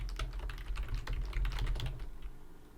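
Quick bursts of keystrokes on a computer keyboard while writing C# code, an irregular clatter of close, crisp clicks with no talking.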